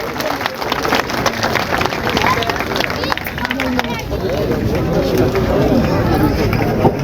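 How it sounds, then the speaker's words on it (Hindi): Audience clapping and crowd noise at an open-air village public rally in Ahulana, greeting a guest arriving on stage; steady, loud, dense applause with crowd murmur throughout. "तालियां बजा करके स्वागत करें।"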